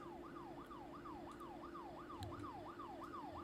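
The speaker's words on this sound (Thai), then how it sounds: "ได้ยินเสียงรถตำรวจทุกคน" Police car siren in the horror game Fears to Fathom, a steady wailing sweep rising and falling in repeated cycles, moderately distant and continuous under a low background hum.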